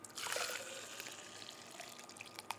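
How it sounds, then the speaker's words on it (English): Hot water poured in a steady, close trickling stream that runs for about two and a half seconds, slightly stronger at the start. "pour number 2 was hot"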